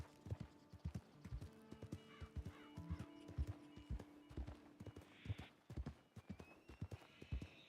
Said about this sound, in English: we did borrow a horse here from Strawberry